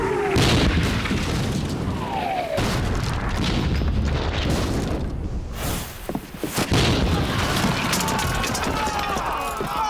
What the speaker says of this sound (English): Swing the cannon round this way, loaded with grape shot in case.